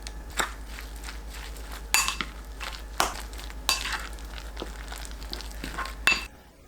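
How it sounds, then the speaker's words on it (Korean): A spoon stirs sea lettuce, chopped paprika, fine salt and three eggs together in a bowl, giving soft wet swishing broken by about five sharper knocks against the bowl. The sound is moderately quiet and close, with no talking. "파래, 작게 썬 파프리카, 고운 소금 3분의 1 큰술, 계란 3개 넣고 섞어주세요"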